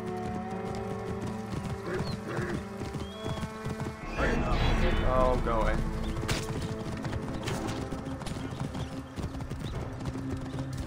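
Galloping hoofbeats pound steadily beneath game music in Assassin's Creed Origins, with a voice briefly speaking over the rhythmic clatter.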